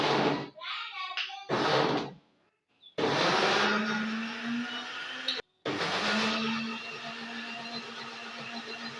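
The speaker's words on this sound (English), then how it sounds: "So I'll be transferring this into the blender." A kitchen blender whirs loudly and steadily as it blends parboiled ingredients for indomie noodles, the motor pitch holding under a few short pauses, with a voice briefly audible near the start.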